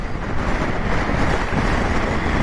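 Strong wind buffets the microphone on a high, exposed spot in the Brecon Beacons, a loud, dense roar of rumbling gusts that fills the whole stretch without any voices.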